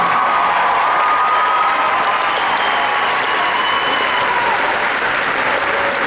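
Audience applause for graduating seniors earning 911 dispatcher certifications, a loud, sustained roar of clapping with some crowd noise and faint cheering throughout.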